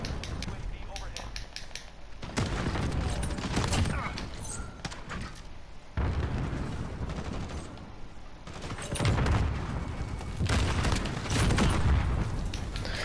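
Dragon's breath shotgun blasts in a first-person shooter video game, several loud booming bursts spaced a few seconds apart over steady battle noise, with a player talking throughout.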